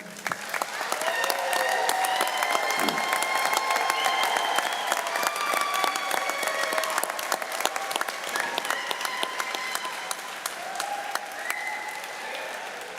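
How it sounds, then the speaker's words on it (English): Sustained, loud applause from a large crowd honouring graduates at a spring 2021 university commencement ceremony, mixed with cheers and whoops rising and falling over the dense clapping. "How about another round of applause for our graduates?"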